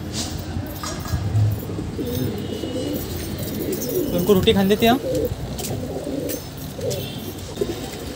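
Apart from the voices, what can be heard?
pigeons cooing in a loft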